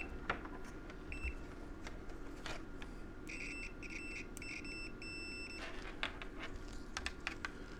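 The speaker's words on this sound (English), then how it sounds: "Grab yourself a meter with continuity, so it beeps." Short electronic beeps from a multimeter continuity test sound intermittently, several in a row, over a background of clicking and tapping noises while testing a hot tub heating circuit.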